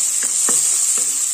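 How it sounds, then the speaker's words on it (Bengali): Onion fries in hot oil with nigella seeds and a green chilli for a Bengali fish curry. A loud, steady sizzle hisses close by, with two or three soft knocks or stirs in the pan. "এবার আমি পেঁয়াজটা দিয়ে দেব। পেঁয়াজটা 2 মিনিট"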